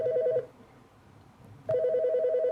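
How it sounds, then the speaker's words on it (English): A video game telephone rings twice in a steady electronic trill, with a short quiet gap between the bursts, loud and clear with no talking. "those sound like real phone rings"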